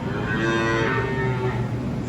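Cattle moo steadily in a dairy calf barn, a long, loud low call that carries the whole way through, close by and with no talk over it.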